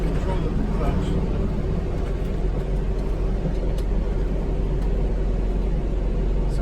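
A vintage GM PD4104 bus drives along with its engine running, giving a steady, loud low rumble and road noise that fill the cabin throughout, with faint talk in the background.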